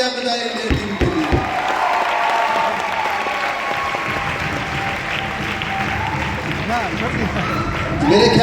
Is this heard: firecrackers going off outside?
no